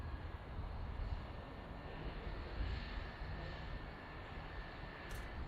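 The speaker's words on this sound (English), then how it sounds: "Oh, got another Pilatus PC-12" Steady low drone of a Pilatus PC-12 turboprop taxiing at Boeing Field, heard at a distance as a constant broadband rumble with a faint high whine, no talk.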